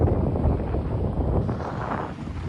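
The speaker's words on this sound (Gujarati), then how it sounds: "અહીંયા આજ પવન બહુ છે" Steady wind buffets the microphone at a dam beside a hillside temple, a constant low roar with no other clear sounds.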